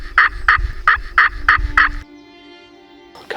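A run of six raspy, evenly spaced yelps from a slate turkey call mimicking a hen during a Wyoming turkey hunt, loud and close, then a short pause and a final faint scrape.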